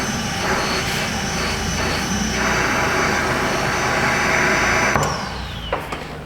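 Steady broadband hiss of air blowing out through a solenoid valve, continuous and fairly loud for about five seconds before tapering off, with a few faint clicks near the end and no talk.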